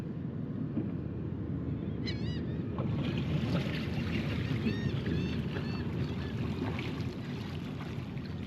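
A yacht motors slowly between two shrimp boats, its engine a steady low drone throughout, while geese honk and birds call in the background.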